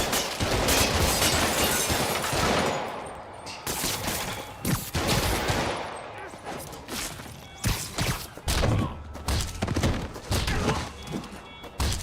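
Henchmen open fire on Spider-Man in a video game, a loud dense burst of rapid gunshots and impacts from the start, thinning into scattered sharp cracks and thuds toward the end.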